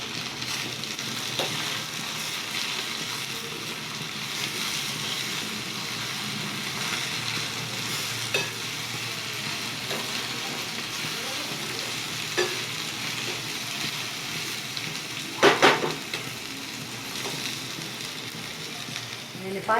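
Okra curry with chutney and tomatoes frying in a pan, a steady soft sizzle with occasional spoon scrapes as it is stirred, a brief louder clatter near the end, and a faint voice underneath.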